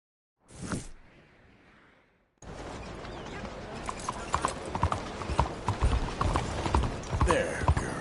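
Horse hooves clip-clop in the Red Dead Redemption 2 video game, a steady rhythmic trot at close range that continues under ambient game sound after a brief snort or whoosh at the start.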